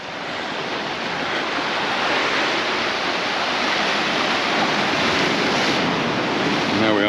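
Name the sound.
sea waves hitting rocks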